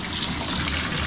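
A faucet turned on full blast during a household leak inspection, water rushing steadily and loudly with a broad hiss, close by and continuous, no voices.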